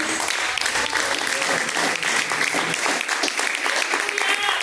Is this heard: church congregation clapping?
yes